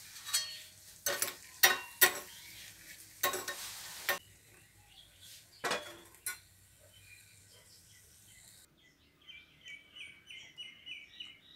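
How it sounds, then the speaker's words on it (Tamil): Sun-dried buttermilk chillies fry in a little oil in a small tempering pan, first with several sharp stirring scrapes and clatters, then a soft, fluttering crackle of sizzling oil in the last few seconds. "கொஞ்சமாக ஊற்றி வறுத்து எடுத்துக்கலாம்."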